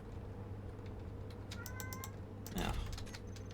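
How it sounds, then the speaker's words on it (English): A house cat meows once, short and fairly close, over low steady background hum with faint clicking before it. "cat's going to start meowing, of course."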